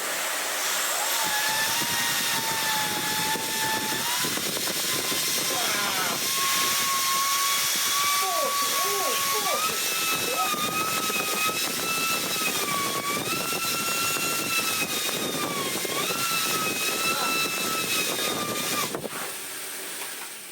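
Continuous loud rushing blast of air from a vacuum cleaner's exhaust, with shifting whining tones riding over the steady roar.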